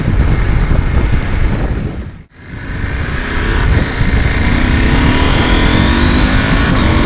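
A Husqvarna Norden 901 adventure motorcycle accelerating hard on an open road, its loud, close engine roaring and briefly dropping out on a gear change before climbing again with rising revs and rushing wind.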